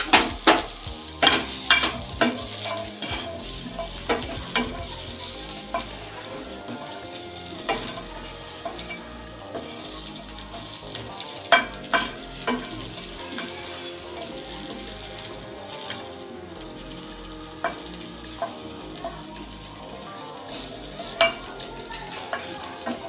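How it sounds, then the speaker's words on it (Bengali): Onion and garlic dry-roasting in a pan without oil, with scattered light crackles and clicks of stirring over a soft, low sizzle; close up, with no voices. "এবার আমি একটু পেঁয়াজ আর একটু রসুন একটু রোস্ট করে নেব"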